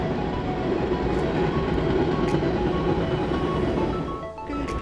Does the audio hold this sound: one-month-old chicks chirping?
no